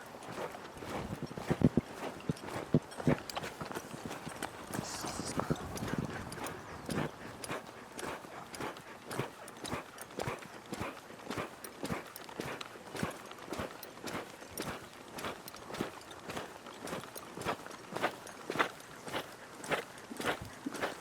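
Horse hooves clip-clop steadily through a training session, a long run of evenly spaced close thuds on the ground with a few quick irregular steps near the start.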